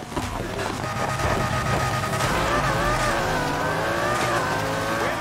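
Car racing in Need for Speed: Heat, with a high-revving engine whine that rises and falls alongside screeching tires and a dense roar of game effects, loud and continuous without speech.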